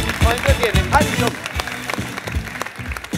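Studio audience applause on a Bolivian game show, brief clapping mixed with music beats and voices talking over it.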